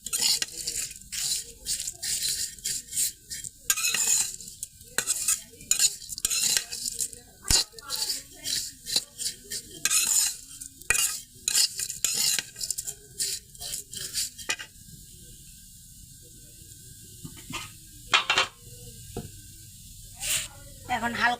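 Lachha semai vermicelli is stirred as it fries in a pan, giving repeated short hissing, scraping bursts in an uneven rhythm, with quieter gaps between strokes.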